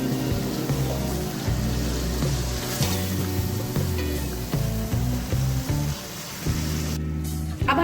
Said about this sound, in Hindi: इसको 2 से 3 मिनट के लिए भूनेंगे इसी मसाले में